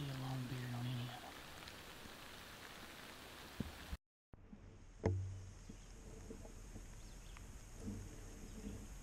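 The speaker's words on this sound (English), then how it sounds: "the rain is starting to move into the area" Rain on a surface outdoors during a spring turkey hunt, a steady soft hiss of falling drops with a brief dropout midway and a few louder taps and faint wildlife sounds in the background.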